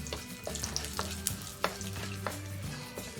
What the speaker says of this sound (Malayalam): മുളക് മൂത്ത് വന്നു കഴിഞ്ഞാൽ ഇതിലേക്ക് കറിവേപ്പില ചേർക്കാം. ഒന്നുകൂടി മൂപ്പിക്കാം.